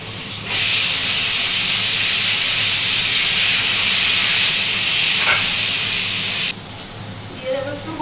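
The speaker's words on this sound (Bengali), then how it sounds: "এই আলুগুলো ভেজে নেবো এখন।" Diced potatoes drop into hot oil tempered with white cumin, setting off a loud, close, hissing sizzle that holds steady for about six seconds before cutting off sharply to a quieter background.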